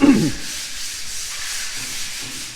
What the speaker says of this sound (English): sanding down the walls